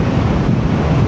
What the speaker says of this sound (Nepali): हावा चाहिँ खत्रै लाग्यो